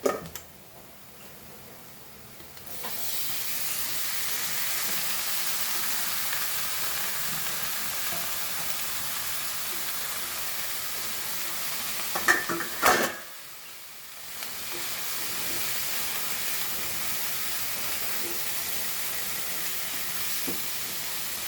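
Banana flour sizzles steadily in a hot frying pan as it is stirred, a continuous close hiss broken by a brief clatter and a short quiet gap before the frying resumes.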